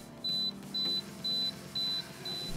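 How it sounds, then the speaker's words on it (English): Alarm of an xTool laser cutter fire suppression system beeping five times at a steady pace, short high-pitched tones from the machine enclosure, moderately loud over a low background hum. "The sensors will detect the open flame and trigger an audible alarm."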